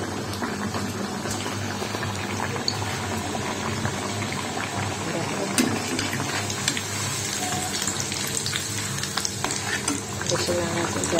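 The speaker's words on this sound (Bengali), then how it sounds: "ডুবো তেলে এটাকে ভেজে নিতে হবে।" A Moglai paratha deep-frying in oil, giving a steady loud bubbling sizzle with crackling pops throughout and no pauses.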